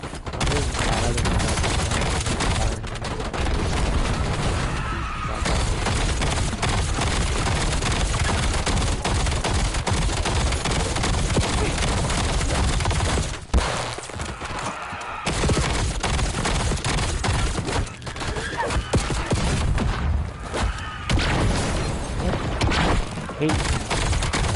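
Sustained gunfire in the video game Black Ops 7 with a CR60 weapon, dense rapid bursts of shots at steady loudness running nearly throughout, with brief pauses and faint game voices underneath.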